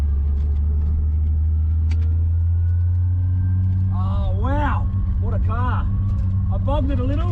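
A tuned Nissan GT-R engine with a single Garrett G35-1050 turbo, around 900 hp, drones loudly and steadily while accelerating, with excited voices talking over it in the second half.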